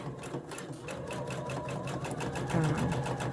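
A sewing machine runs steadily, stitching fabric while sewing a gusset pocket with sew-in interfacing, its needle punching a fast, even rhythm up close and continuous throughout, with a faint low hum beneath.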